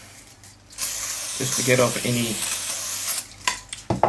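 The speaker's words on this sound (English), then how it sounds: "Some spray cleaner" Spray cleaner misted from a trigger bottle in a few short hissing bursts, close by, with someone talking over and between the sprays.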